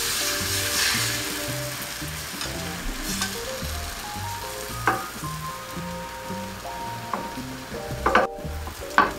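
A first thin layer of beaten tamagoyaki egg sizzles in a pan over medium-low heat, giving a steady, close hiss with soft crackles, while gentle music plays underneath.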